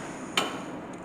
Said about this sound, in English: you'll want to hit here with the hammer